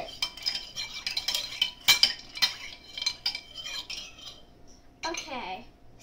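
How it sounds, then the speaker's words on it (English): A single ice cube, cracked into two pieces, is stirred in a drink, producing a run of close, bright clinks and taps against the glass, followed by a short rustling scrape near the end. "Stir it."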